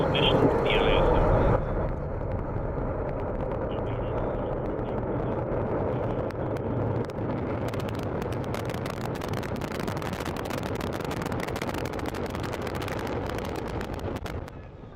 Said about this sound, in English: And we have liftoff of Antares for the Orbital 3 mission